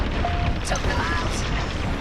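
A cruiser explodes in Star Wars Squadrons with a rumbling, noisy boom and crackling debris under a continuous roar of space combat.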